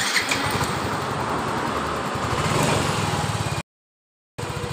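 A Yamaha Fino scooter, just after its throttle body was cleaned to fix sputtering and weak power, runs loud and close with a steady engine drone that cuts out briefly near the end.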